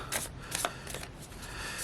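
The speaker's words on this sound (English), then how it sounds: "I want to give these a good shuffle real quick" Tarot cards being shuffled by hand in quick bursts of riffling and slapping, several short rustling flurries close to the mic with no talking.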